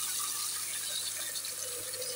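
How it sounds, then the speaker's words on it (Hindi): Water poured into a cooking pot on the stove for cooking dal, a steady faint splashing rush with no voices. "उसके बाद हम लोग इसमें डालेंगे पानी"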